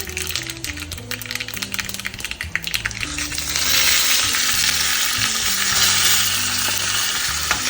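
Two teaspoons of mustard seeds splutter in hot oil for tempering, a close sizzle with sharp pops and crackles that thickens midway, over a faint tonal melody.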